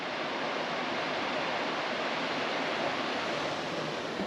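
Small waterfall along a trail at a dispersed campsite in rocky Wyoming country, heard as a steady, dense rush of falling water that holds even and unbroken throughout, with no voices.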